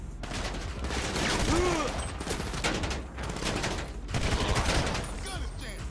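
Gunfire in GTA 5 during a street fight, rapid clustered shots in dense bursts with a short pause midway, loud and close amid game noise.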